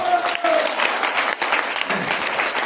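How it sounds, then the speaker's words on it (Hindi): A crowd claps for company leaders at a Dolphin Travel Marketing event, the applause dense and steady throughout, with a faint voice audible beneath it. "एक बार जबरदस्त तालियां चाहूंगा"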